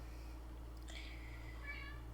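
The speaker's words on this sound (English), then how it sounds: "Sorry if you hear my kitties." Pet cats meowing indoors, two short high cries a moment apart, faint against a steady low electrical hum with no talking.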